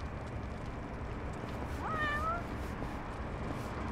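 A cat in the video game Lost Judgment gives one short, clear meow partway through, heard over a steady wash of game background noise.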